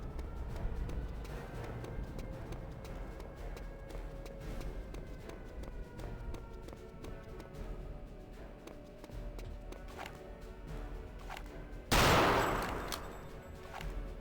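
Gunfire from the video game Return to Castle Wolfenstein plays against steady in-game ambience and running footsteps, building to a loud, bright burst near the end.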